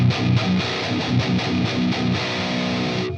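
Thick, high-gain guitar tone from the Fortin Nameless Suite plugin's default preset, chunky chugging riff with rhythmic palm-muted notes and a sustained chord, loud and up front, stopping abruptly.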